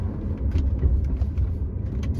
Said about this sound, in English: Drive video number 1, 2009 Porsche Cayenne GTS 6-speed manual.